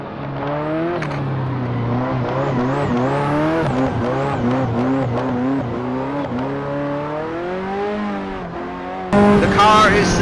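A Ferrari F40 being drift driven, its engine revving hard through rising and falling pitch sweeps with repeated gear changes, loud and close, ending in a burst of tire noise.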